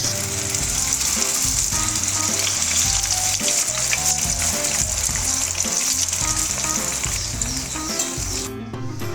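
Raw jackfruit kebabs fry in hot oil over a high flame, giving a loud, dense, continuous close-up sizzle that holds steady throughout before cutting off at the very end.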